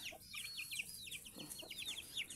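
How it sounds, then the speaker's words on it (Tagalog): Chicks cheep in rapid high chirps while a hen clucks low now and then, a busy, close-up barnyard chatter with no talking. "Grabe itong manok na to. Sisiw na to."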